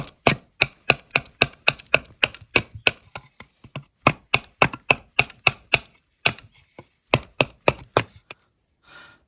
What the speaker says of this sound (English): the knife does slice through the wood very easily